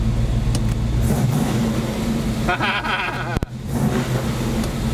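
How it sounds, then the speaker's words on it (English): A 1979 Camaro engine revs inside a tunnel, a loud, continuous low rumble that echoes and surges about midway, with a brief sharp knock near the end. "I mean, I have to rev it up, don't I?"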